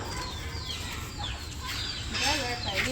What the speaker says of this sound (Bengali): ওই যে মুরগি চলে যেতেছে